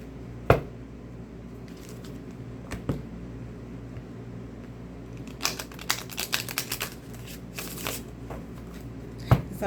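Inner Garden Oracle cards being shuffled and drawn, a soft papery rustle broken by sharp snapping flicks near the start and end, with a denser burst of riffling in the middle; close and fairly quiet, no talking.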